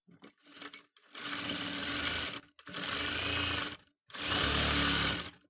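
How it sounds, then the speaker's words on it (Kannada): A sewing machine stitches a school uniform top placket in three sustained whirring bursts separated by short pauses, after a few brief start-up clicks. "ಈ ಥರ ತಗೊಂಡು ಇದ್ರ ಮೇಲೆ ಇನ್ನೊಂದು ಸ್ಟಿಚ್ ಹಾಕು"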